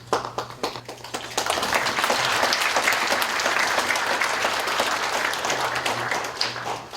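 Students applaud in a university lecture hall: scattered claps at first swell into sustained, dense applause filling the room, then thin out toward the end, with a low hum underneath.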